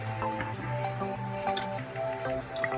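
Homemade spaghetti sauce is poured into canning jars, soft wet glugs and drips under a faint tonal background hum, fairly quiet and close.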